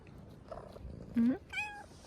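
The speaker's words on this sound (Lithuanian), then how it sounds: "Taip, tu mylus katinas." A cat gives two short, soft meows close by, the second higher and brighter, in a quiet setting with slight background noise.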